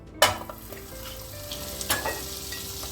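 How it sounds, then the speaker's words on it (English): A large knob of butter hits a hot frying pan and sizzles, a sharp hiss bursting in near the start then settling into steady frying crackle, with a brief clink of a utensil partway through. "I'm going to add a large knob of butter to a hot frying pan"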